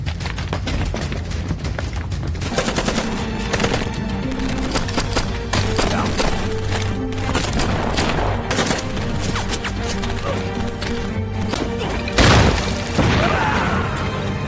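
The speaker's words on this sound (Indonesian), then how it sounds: "Dalam baku tembak yang terjadi" Gunfire in a police shootout from a film, a steady, dense barrage of shots and impacts that runs throughout, with a heavier crash near the end.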